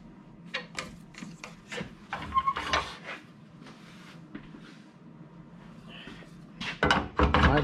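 Dogwood turned on a wood lathe, the tool scraping and rubbing against the spinning blank in irregular bursts, growing louder and busier near the end, with faint room noise underneath and no clear talk.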